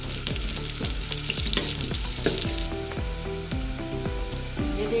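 Sliced onions from two medium onions frying in oil until brown for beef pulao, a steady dense sizzle with repeated scraping strokes of a stirring spoon against the pot.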